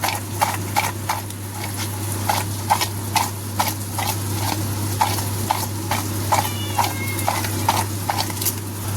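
Raw thor (banana stem) being mixed with salt by hand, giving a steady run of soft, rhythmic wet squelching and pressing strokes, close up, over a constant low hum with no talking.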